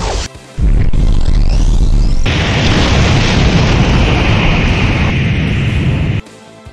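A loud explosion from Grandia 2 HD Remaster bursts in after a brief quiet lead-in, then a sustained blast of rumbling roar holds for several seconds before cutting off abruptly.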